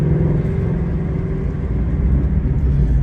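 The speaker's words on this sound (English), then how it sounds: "This Voodoo motor is such a nice motor." Ford Mustang GT350 with the Voodoo V8, running at a steady, rumbling idle or low rev. It sounds close and loud with a constant deep drone and no speech.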